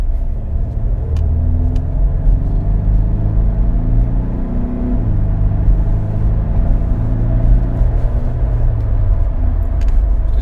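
A Ford Edge engine under acceleration on a test drive, a loud close low rumble rising in pitch through two gear changes, heard from inside with steady road noise and no talking.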